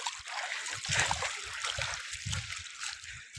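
Flood water streaming beneath a village road, a continuous hissing rush with gurgling and splashing, heard at moderate distance with low rumbling bursts that may be wind or handling noise.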